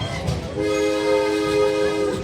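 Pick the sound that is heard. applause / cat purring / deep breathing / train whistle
train whistle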